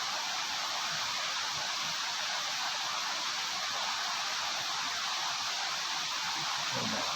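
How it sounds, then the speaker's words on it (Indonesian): The second waterfall at Granjangan gives a steady, broad rushing roar, constant and fairly near, with no voices over it. "Nah itu teman-teman, untuk air terjun yang kedua."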